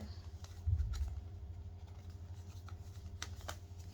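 Tarot cards shuffle and rustle close by, with soft repeated flicks and light patter against a low background hum, no voices.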